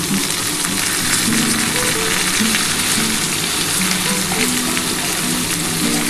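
Chili powder, Kashmiri chili powder and spices sizzle and fry steadily in hot oil while being stirred for a cauliflower and potato curry, a continuous close crackling hiss with no talk.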